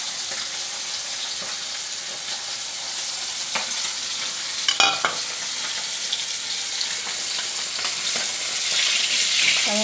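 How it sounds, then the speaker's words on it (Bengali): Small freshwater fish such as pabda or bata shallow-frying in hot oil in a pan, a steady bright sizzle and crackle throughout with a few louder spits and pops near the middle, close and continuous with no talking. "আমি মাছগুলো বেশি ভাজবো না।"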